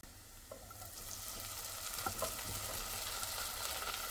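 Onions and mixed bell peppers frying in melted butter, a soft, fairly faint sizzle that builds after the first moment, with a few light stirring scrapes.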